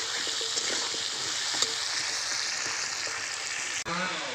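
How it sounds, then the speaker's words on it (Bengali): Potato pieces fry in oil with salt and turmeric, a dense steady sizzle close by with occasional stirring scrapes, while a tree-cutting machine drones nearby and a brief voice appears at the end. "লবণ হলুদ দিয়ে ভালো করে লাল লাল করে আমি আলুগুলো ভেজে নেব।"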